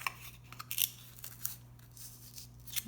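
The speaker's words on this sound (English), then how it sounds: "So I'm going to cut this piece of foam core down real quick." Foam core board being cut by hand, with a few short, close crisp snips and tearing scrapes spread irregularly over a quiet background hum.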